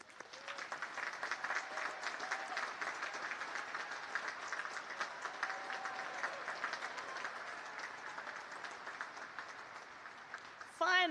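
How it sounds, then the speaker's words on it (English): An audience at the United States Naval Academy Class of 2024 commissioning ceremony applauds distinguished graduates with a sustained wash of clapping from a large crowd, steady for about eleven seconds, ending with a brief sharp noise. "Please join me in recognizing and applauding these distinguished graduates."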